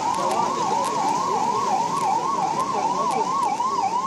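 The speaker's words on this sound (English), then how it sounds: "the air siren now blaring in Bengaluru itself" An air raid siren wails steadily in Bengaluru, its rising and falling tone cycling continuously and loudly over a constant background hum, with no voices.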